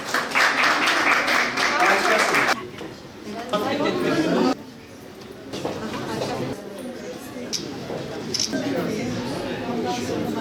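Crowd clapping at an outdoor Republic Day street celebration in Atakum, bursts of applause mixed with chatter and a voice speaking over it, loud near the start, then softer with crowd murmur and voices.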